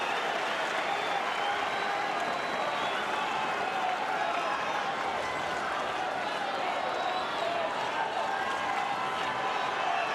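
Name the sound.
tennis crowd applauding and cheering the players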